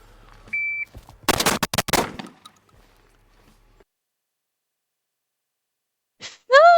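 Five gunshots fired into the dirt: a tight burst of loud, sharp cracks in quick succession, close by, followed by quiet and a later squeal of noise.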